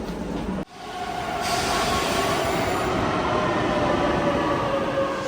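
A Rome metro train riding toward Ottaviano station, with a loud, steady rumble of wheels and motors, rising wheel squeal and a sharp jolt near the start, heard alone without talk.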